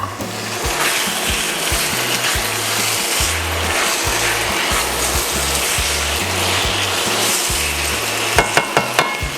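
Chicken wings and chicken liver sizzling in a hot pan, a steady loud frying hiss with rhythmic stirring scrapes underneath and a few sharp utensil taps near the end.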